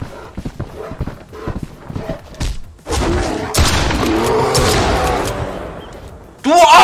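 A burst of gunfire from the Mist Survival game erupts after a stretch of scattered thumps, holding as loud, dense shooting for several seconds before a sharp closing blast, with someone talking around it.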